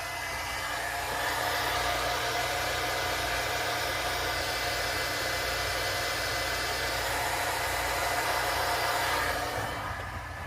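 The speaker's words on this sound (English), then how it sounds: "Waiting for my dryer to heat up." A heat tool used for crafting stamps blows steadily, a loud, even rushing whoosh like a hair dryer that runs close and unbroken for about ten seconds before easing slightly at the end.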